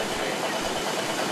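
Steam engine of the boat Virginia V running, a steady low mechanical hum and churn close by, alone with no talk.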